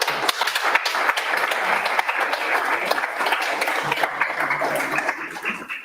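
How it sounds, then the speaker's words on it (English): Audience applause at a London MLOps meetup after a talk on distributed training, steady dense clapping filling the room for several seconds before tapering off at the end. "let's have one more round of applause for Uroš"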